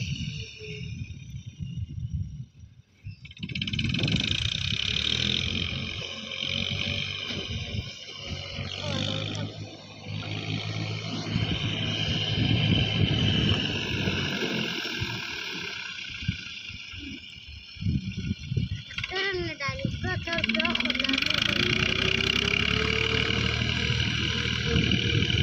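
A tractor engine runs in a loud, continuous low rumble that rises and falls, with a voice speaking over it at times.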